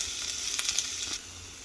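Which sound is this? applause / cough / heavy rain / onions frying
onions frying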